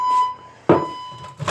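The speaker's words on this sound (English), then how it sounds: "this stupid false alarm that goes off at least once a week" A false fire alarm that goes off about once a week sounds as a steady electronic tone with a hard buzzing burst partway through, continuing to the end of the short stretch, with no talking.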